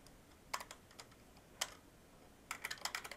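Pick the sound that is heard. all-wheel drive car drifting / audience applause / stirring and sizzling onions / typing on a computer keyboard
typing on a computer keyboard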